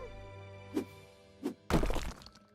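In the video game House Flipper, two short dull thuds land about a second apart, followed by a loud crashing break with crumbling debris as a wall is smashed.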